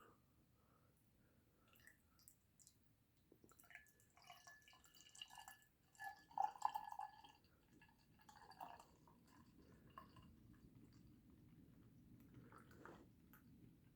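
Hoppy brown ale, 5.3% ABV, is poured into a glass, giving quiet trickling and glugging liquid sounds with faint drips and glassy splashes, briefly louder midway, heard softly with no talk.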